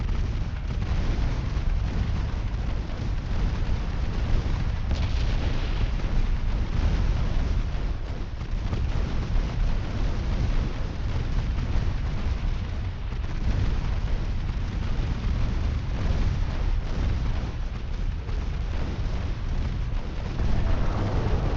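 Continuous dense rumble of naval gunfire and explosions in the warship battle game Ultimate Admiral Dreadnoughts, with torpedo launches, steady and loud throughout with no clear separate blasts.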